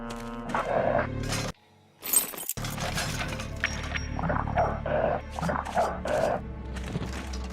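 A dog in Full Throttle Remastered gives several loud, close barks and growls in a game scene, coming in bursts between short pauses, with some clattering effects.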